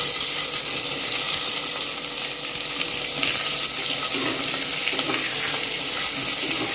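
Onions fry in hot oil with crackled curry leaves and fenugreek seeds, giving a loud, dense, continuous sizzle with a rushing hiss throughout and no pauses.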